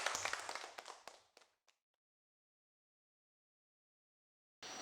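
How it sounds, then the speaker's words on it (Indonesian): A short burst of clapping from a classroom group fades out over about a second and a half, followed by silence, then a sudden return of background noise. "Beri tepuk tangan untuk kelompok 2"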